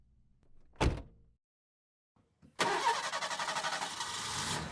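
A car door thuds shut once, followed after a short pause by an engine starting and settling into a steady idle with a rhythmic pulse, all in the Chinese horror video game Dread Flats; no talking is heard.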